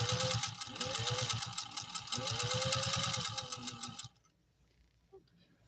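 A Singer 201-2 sewing machine stitches through three layers of saddle-grade leather, its motor whirring with a steady rapid needle chatter for about four seconds before stopping abruptly, leaving near silence.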